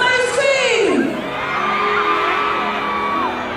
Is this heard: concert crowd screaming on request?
yes